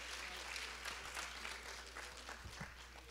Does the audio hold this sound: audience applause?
yes